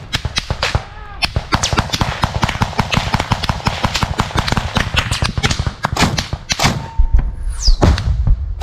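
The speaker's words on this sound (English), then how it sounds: "Bullets are flying everywhere." Combat gunfire along trenches in Donbass, with rapid bursts of sharp cracks and thuds coming almost continuously, some near and loud, a few spaced shots and a brief whistle near the end.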